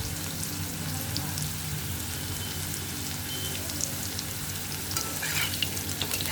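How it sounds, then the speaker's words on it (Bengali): Potatoes frying in a pan in a home kitchen, a steady crackling sizzle that holds throughout with small scattered pops, no voices. "আলুগুলো আগে ভালো করে কষে নিই"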